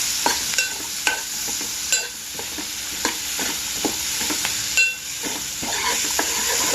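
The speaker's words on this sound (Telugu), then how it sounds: "ఒకసారి మరలా కలుపుకోవాలి ఈ విధముగా." Mushroom masala curry stirred in a pan with a spoon, a steady sizzle of frying underneath and regular scraping strokes close by, with no talking.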